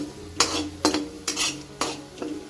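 Onions stirred and fried in a pan until red, with scraping and clinking strokes of a spoon against the pot about every half second, close and moderately loud over a faint sizzle.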